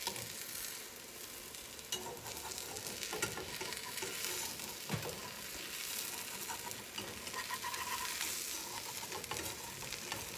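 A chickpea scramble fries in a pan while a utensil chops and stirs it, giving a steady close sizzle with scraping and clattering taps throughout and no talking.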